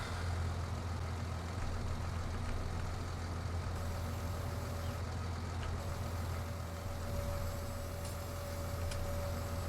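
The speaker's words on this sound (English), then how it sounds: "Got the tractor." Steady low tractor engine drone from Farming Simulator 19, running continuously at even loudness with a constant hum throughout, no talk over it.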